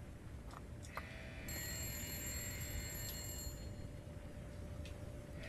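Telephone ringing in the survival game The Long Dark: a bright, sustained electronic bell tone that sounds once for about two seconds, moderately loud over a low, steady ambient hum, with a few faint clicks around it.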